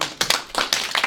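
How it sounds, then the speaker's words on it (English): A brief burst of clapping from a small group in a chemistry lecture class, close and lively, lasting about a second. "Another round of applause."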